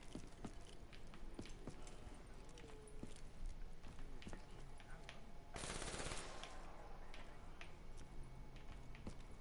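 Rapid machine gun bursts in a zombies video game, sharp repeated shots with a dense burst around the middle, heard under game noise and brief talk.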